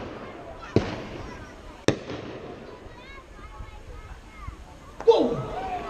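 Pyrotechnic blasts at a naval battle re-enactment show in Bridlington: three sharp explosive cracks, spaced a second or more apart, the last one heavier with a rumbling tail, over a steady outdoor crowd and commentary wash with voices talking.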